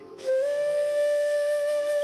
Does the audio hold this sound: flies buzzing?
no